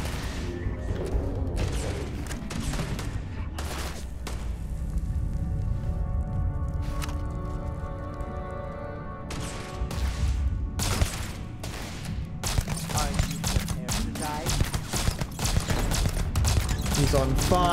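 Gunfire in the video game Starfield, shots in irregular bursts and single cracks mixed with game effects and music, with someone talking over much of it.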